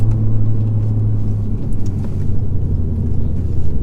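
A VW Golf MK7 or MK8 with a limited-slip differential accelerates out of a corner, heard from inside the cabin as a loud, deep engine drone and rumble with a sustained low tone.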